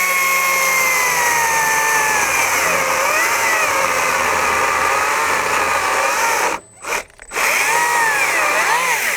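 A Stihl MSA 120 C 36-volt battery chainsaw whines loudly and steadily as it cuts, its pitch wavering under load, then drops out twice in quick succession before resuming.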